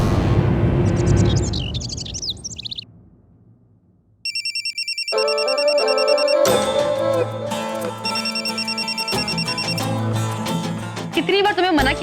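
A telephone ringtone chimes in a repeating electronic pattern under a dramatic music score, loud and close, following a brief lull.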